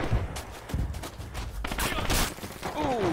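Machine gun fire in the Red Orchestra 2 video game during a battle at Mamayev Kurgan, sharp rapid bursts cracking over a noisy backdrop of combat, with a voice briefly heard.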